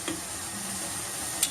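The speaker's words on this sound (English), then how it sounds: "Right, so it's still frying." Boiled cassava (mogo) frying in a pan, a steady soft sizzle with faint crackles and one brief tick near the end, heard fairly close and alone.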